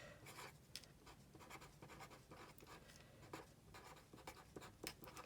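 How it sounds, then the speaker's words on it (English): Marker or chalk strokes on a classroom board during a coordinate plane lesson: steady scratchy writing with short bursts and pauses, close and fairly quiet, no talking. "Okay, I'll write that for you too."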